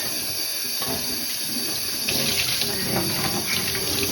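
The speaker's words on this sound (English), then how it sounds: "Rinse this out with some cold tap water." Cold water runs steadily from a tap in a continuous broadband rush, fairly close, growing slightly louder partway through with no talking, while rinsing dyed yarn.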